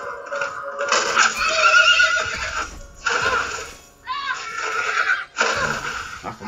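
A horse whinnies repeatedly in loud, shrill bursts in the video game The Last of Us on PS4, with hoof clatter mixed in and brief gaps between the calls.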